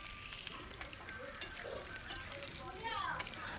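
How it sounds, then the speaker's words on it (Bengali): Pieces of potato and papaya fry in hot oil in a wok over a wood fire, making a continuous soft sizzle with light stirring clinks. "এই কড়াইয়ের মধ্যে প্রথমে আমি আলু আর পেঁপেটা ভেজে নেব"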